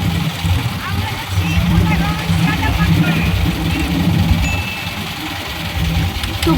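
A boat engine droning steadily on a short boat trip to Bholaganj, a continuous low rumble with wind and water noise, loud and near, while people talk over it.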